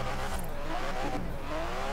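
A car in Forza Horizon 4 revs hard as it accelerates, its loud, close engine note climbing in pitch and briefly dipping between gear changes.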